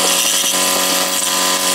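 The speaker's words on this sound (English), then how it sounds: "take this reamer right here and ream the hole out" A hand reamer grinds steadily through a drilled hole in the frame of a hand pump, a continuous loud scraping and chattering cut with no pauses and no talk.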